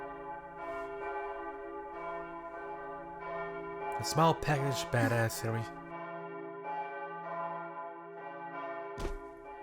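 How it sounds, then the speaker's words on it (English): Bell towers in the visual novel Princess Waltz ring together in a sustained, layered peal of church-like bells. Someone speaks briefly midway, and one sharp hit comes near the end. "The bell towers all at the same time."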